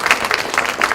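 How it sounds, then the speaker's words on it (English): Audience applause at a talk on helping teens through emotional struggles: a brief burst of many hands clapping, dense and steady for about a second, with no voices over it. "we can at least clap for that"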